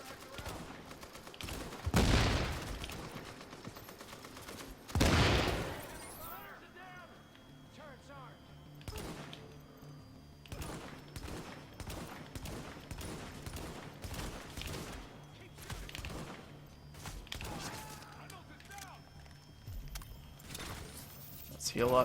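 An M60 machine gun fires in The Division, with long bursts of rapid gunfire, two loud volleys early and then scattered shots and clatter, under someone talking throughout.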